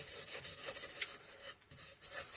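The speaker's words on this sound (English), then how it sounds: "Aluminium wheels with a very soft brush." Very soft brush scrubbing an aluminium wheel on a Honda CB250RS motorcycle during restoration, a faint, continuous light rasping rub with gentle back-and-forth strokes, close and alone.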